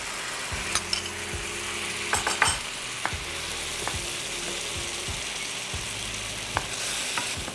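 Tomato puree sizzling and frying in a pan with onion and ginger garlic, a continuous hiss with a spoon scraping and stirring at irregular intervals close by, with no talking.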